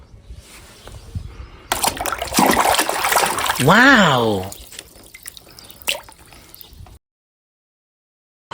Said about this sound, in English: Let's wash it in water.